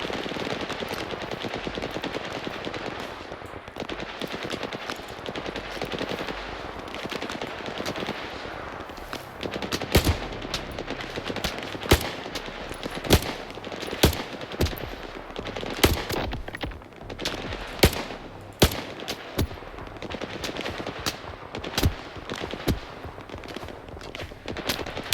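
Gunfire in the video game S.T.A.L.K.E.R. 2, a dense run of sharp shots and bursts, some louder and nearer, over continuous rumbling background noise.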